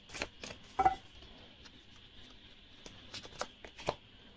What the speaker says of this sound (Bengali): অ্যান্ড একটু শাফেল করে নি, একই কার্ড আসছে